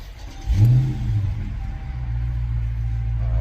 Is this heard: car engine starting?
yes